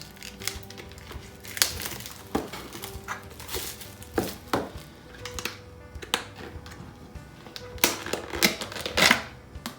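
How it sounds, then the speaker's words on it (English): Sharp snips and crinkly plastic rustles come in irregular bursts, close and fairly quiet, as scissors cut open a ramen noodle packet, with no voices. "Trying to open the ramen noodles with scissors."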